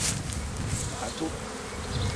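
A dense, steady hum of honey bees swarms close around an open hive while a queen cage is being unplugged, the buzzing constant and near with no talk.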